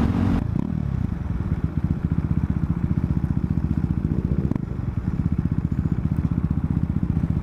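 Supermoto dirt bikes on a group ride, engines droning loud and steady with a rapid, pulsing exhaust rhythm and some clatter, no talking over them.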